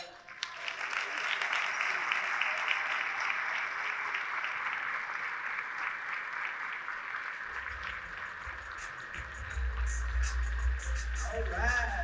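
Audience applause at the Texas Black Expo 2023 Magic Johnson Award Luncheon, welcoming founder Jerome D. Love; steady sustained clapping fills the room throughout, with music and a low rumble swelling in near the end.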